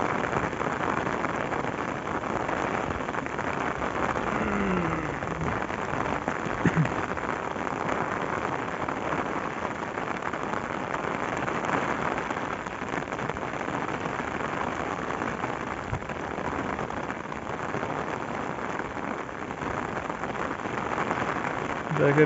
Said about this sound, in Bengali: আজকেই এই বছরে 2024 সালের আজকেই এত বৃষ্টি সিরাজগঞ্জের তারাস থানায়